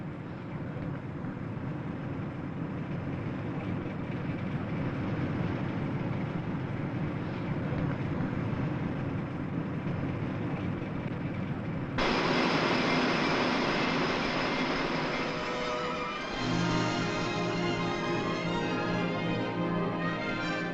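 The engines of a train-ferry ship run as a continuous low, heavy droning rumble, growing brighter and louder partway through and later picking up a steady tonal hum, with no talking.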